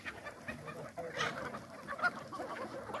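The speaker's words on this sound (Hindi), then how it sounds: "इसमें 10 ठो कड़कनाथ मुर्गा है" Kadaknath chickens cluck and squawk nearby in a busy flock on a poultry farm, with scattered calls overlapping against a low background murmur.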